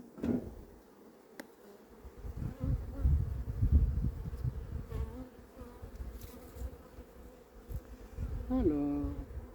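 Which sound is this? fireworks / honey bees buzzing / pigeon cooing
honey bees buzzing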